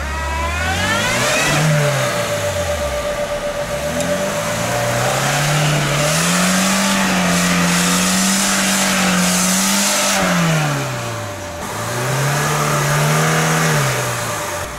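A car engine revs hard during off-road driving, the pitch rising and falling in long repeated surges as the throttle is worked, loud and continuous with no speech.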